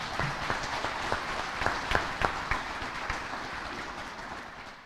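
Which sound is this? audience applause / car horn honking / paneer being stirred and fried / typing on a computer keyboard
audience applause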